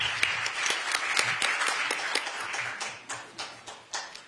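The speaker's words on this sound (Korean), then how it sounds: "박수로 맞아주시기 부탁드립니다." An audience at a Korean political event claps, a dense round of applause that thins into a few scattered, fading claps.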